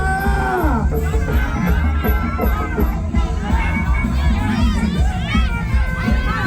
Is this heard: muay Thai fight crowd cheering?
yes